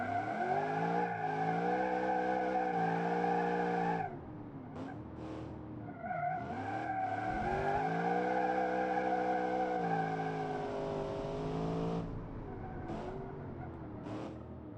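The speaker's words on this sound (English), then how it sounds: "I used to drift the whole automation test track" Gladiator 1000 car drifting around the Automation test track in a video game, its engine holding a loud, steady harmonic whine that dips and rises again as revs shift, with faint tire scrub beneath.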